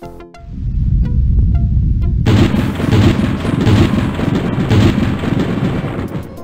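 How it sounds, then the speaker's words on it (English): Thunderstorm in the 1993 LucasArts adventure game Day of the Tentacle on MS-DOS: loud rolling thunder rumbles with heavy rain noise that suddenly swells and continues densely to the end. "Looks like a big storm."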